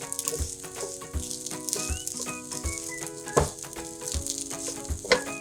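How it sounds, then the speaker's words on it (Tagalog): Siomai rice stir-fried in a pan, a close, steady sizzle with irregular rattling scrapes and knocks of the spatula against the pan, no voices over it. "Bale, isasangag lang natin to."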